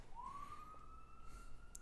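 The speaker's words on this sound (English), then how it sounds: "Sorry about the sirens." A siren wails outside a food market on Central Avenue in East Orange, a single rising tone that climbs and holds steady, faint and distant beneath a low background hum.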